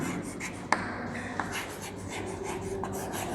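A pen writes out a physics differentiation on paper, a soft continuous scratching close up with a couple of sharp taps as strokes begin.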